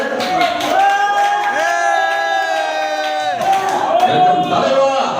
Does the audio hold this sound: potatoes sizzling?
no